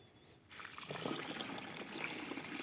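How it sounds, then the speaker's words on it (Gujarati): Water starts trickling and pours slowly and steadily into a container of humic acid, a soft, continuous splashing with no talking. "ધીરે ધીરે પાણી નાખવાનું એટલે કમ્પ્લીટ ઓગળી જશે"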